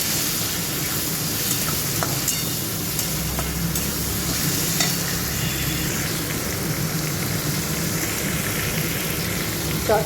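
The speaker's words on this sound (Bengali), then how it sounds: "চিংড়ি মাছকে খানিকক্ষণ নাড়াচাড়া করে" Prawns stirred and fried in oil in a pan, a continuous loud hiss of frying with a few faint stirring clicks and no voices.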